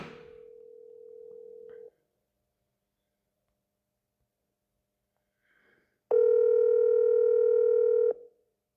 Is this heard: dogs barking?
no